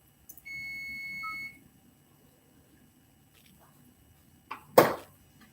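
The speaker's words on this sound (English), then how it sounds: "Turn that off because it'll just keep beeping." An electronic appliance beeps a short double chirp, then a sustained steady tone of about a second, in a kitchen where kombucha tea has finished brewing; faint rustling and a brief clatter follow.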